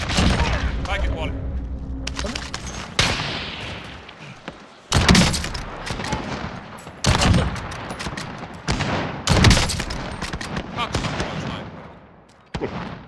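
Gunfire in the Call of Duty video game, repeated bursts and single loud shots spread across the stretch, mixed with game effects and someone talking over it.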